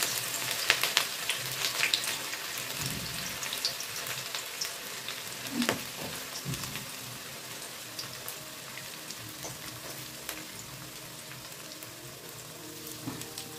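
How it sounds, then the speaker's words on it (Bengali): Chopped onion and green chili sizzle steadily in hot oil for an egg tadka, a continuous crackling fry with scattered pops, fairly close and moderately loud, with no voices. "পেঁয়াজ কুচি আর লঙ্কা কুচি দিয়ে দিলাম বন্ধুরা। দিয়ে এটা ভেজে নেবো ভালো করে।"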